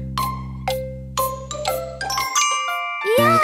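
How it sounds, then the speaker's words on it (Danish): While jelly sets, a timer gives a run of bright chiming dings and tinkles over a low held tone, the notes stacking into a cheerful jingle that ends in a quick rising flourish, with no talking. "Vi setter på en klokke mens vi venter på at geléen skal stivne."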